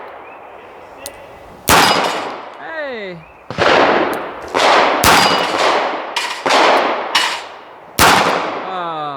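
A Smith & Wesson 442 snub-nose revolver fires at targets about 20 yards away, loud sharp reports in an irregular string with ringing steel hits after some shots, and a brief spoken word early on.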